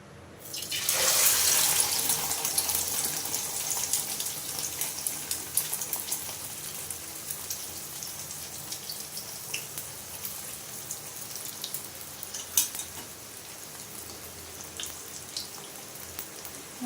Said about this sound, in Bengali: এইভাবে পরোটাটা এর মধ্যে চুবিয়ে নিয়ে আমি দিয়ে দেবো ডিমের গোলায় চুবিয়ে নিয়ে আমি তেলে ছেড়ে দেবো